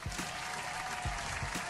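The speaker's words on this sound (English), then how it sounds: "Clap that up." Scattered applause on a call-in talk show, a brief run of claps with a few sharper hand strikes standing out, steady and fairly close throughout.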